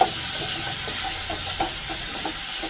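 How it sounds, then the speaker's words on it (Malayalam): Tomatoes are stirred into a prawn capsicum masala in a hot pan, giving a constant loud sizzle and hiss with soft, irregular scraping of the spoon through the mixture. "ഇനി ഇതിലേക്ക് തക്കാളി ഇട്ട് കൊടുക്കാം. നല്ലതുപോലെ മിക്സ് ചെയ്യാം."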